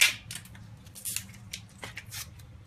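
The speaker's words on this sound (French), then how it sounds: "Donc je continue d'éplucher mes oignons en essayant de respirer" Onions being peeled by hand in a kitchen: a short series of crisp, close rustling and tearing sounds of papery onion skin, heard alone without talk.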